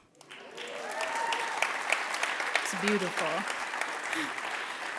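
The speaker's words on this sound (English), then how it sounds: "And while you're applauding" Audience applause at an Indigenous People's Day event at The Mahaiwe swells quickly into a sustained, dense wash of clapping, with a few voices speaking and cheering over it.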